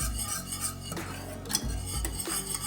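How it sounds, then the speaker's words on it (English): Cheese grits stirred steadily in a pot on reduced heat, a spoon scraping and clinking against the metal in repeated strokes, close and fairly loud with no talking. "you got to just constantly stir the grits"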